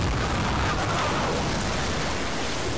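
Cannon fired aboard a ship in the video game Sea of Thieves, a sustained loud broadband roar and rumble of blast and debris, continuous across the moment without distinct separate shots or talking.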